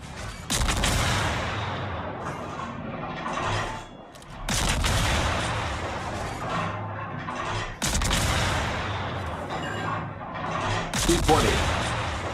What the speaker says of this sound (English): He's shooting HE out of his main guns.